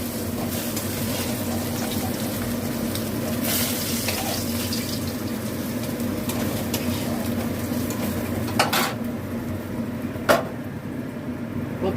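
Mustard seeds and curry leaves are added to hot oil in a pan after fish has been fried, giving a steady, close sizzle with a few brief spitting pops.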